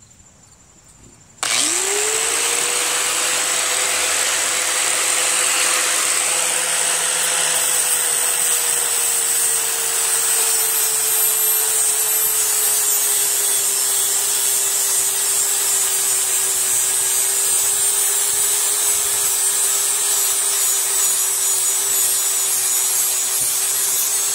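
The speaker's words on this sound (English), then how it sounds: "I'm going to sharpen these blades since I have it off." A power tool sharpening the blades of a Yard Machines 190cc 21-inch push lawn mower, starting abruptly and then whining at a steady, slightly falling pitch with a harsh grinding hiss, loud and close.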